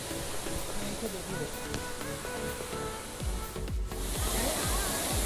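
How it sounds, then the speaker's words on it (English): Waterfall in Karura Forest near Nairobi, Kenya, a steady broadband rush of falling water heard close, with faint low thumps and rustle mixed in and no talking. "So this is the waterfall basically which we have come over here to see."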